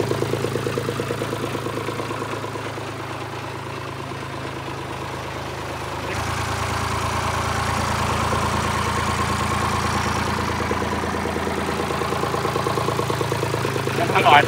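A mini tractor engine runs at a steady idle on a farm resort, its low droning hum constant and fairly close throughout, rising slightly in strength midway, with a voice speaking over it.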